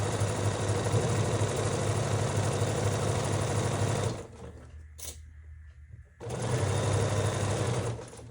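Sewing machine stitching jelly roll quilt pieces runs in a steady loud mechanical whir, then stops for about two seconds with faint handling sounds and starts again, with no talking.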